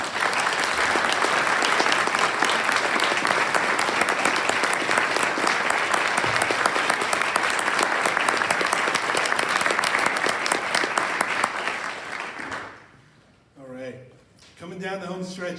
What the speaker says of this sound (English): I'd like you to stand up so we can publicly applaud you.